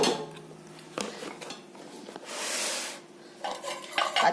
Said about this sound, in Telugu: ఇప్పుడు ఒక మూత పెట్టుకొని పక్కన పెట్టుకుందాము